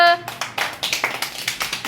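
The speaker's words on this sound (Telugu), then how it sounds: "మైత్రికి క్లాప్స్ కొట్టండి ఒకసారి అందరూ" Children clap together for a girl named Maitri during a class lesson on good habits, a burst of rhythmic, fairly close hand claps following a brief voice at the start.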